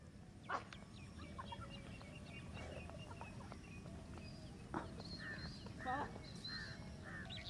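Chickens in a Tamil village farmyard, with scattered clucks and short calls among other birds over a steady low rumble, while people shout and talk nearby.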